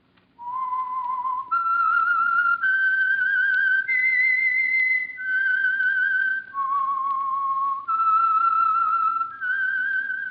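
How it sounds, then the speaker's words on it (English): A single person whistles a short melodic theme tune for an old-time radio drama, clear sustained notes in a rising and falling phrase, alone with a faint hum underneath. "That whistle is your signal for the Signal Oil Program"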